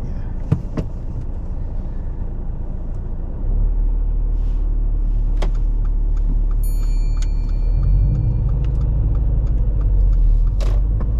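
A car pulls away during a driving lesson. Its engine rumbles steadily from inside the cabin, then swells and deepens about a third of the way in and again near the end as it gathers speed. A few small clicks and knocks sit over the hum, and no one speaks.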